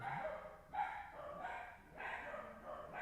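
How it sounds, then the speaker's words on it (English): Dogs barking in the background, several sharp repeated barks in quick bursts, moderately distant and fairly faint. "Dogs are going crazy right now in the background."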